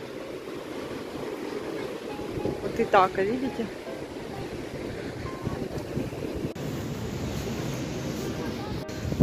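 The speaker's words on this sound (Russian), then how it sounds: "Видите, какой ветер сегодня ужасный." Strong wind buffets the microphone while waves wash and surge nearby at a waterfront, a steady roaring noise. A voice speaks briefly over it.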